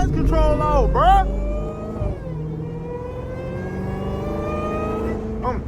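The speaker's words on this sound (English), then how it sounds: "And then we just gonna smash the gas" Dodge Hellcat accelerating hard, its engine rising in a loud revving whine, then dropping back into a steady strained drone as it pulls, close and prominent with a person talking over it.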